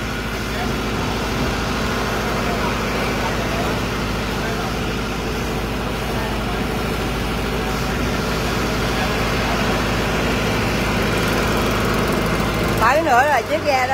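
Boat engine running at the Cái Răng floating market in the early morning, a steady loud drone throughout, mixed with background chatter and voices, ending in a brief burst of clattering.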